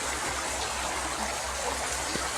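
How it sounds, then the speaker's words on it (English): Conneaut Creek running strongly near a road bridge access, a loud, steady broadband rush of flowing water heard up close with no voices. "Conneaut Creek's flowing pretty good."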